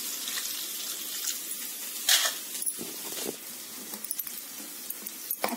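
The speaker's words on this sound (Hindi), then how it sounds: "अब हम इसमें पानी ऐड करेंगे।" Water is poured into a pan of leftover roti, a close splashing gush with light metallic clinks from the pan, steady for a few seconds, no speech.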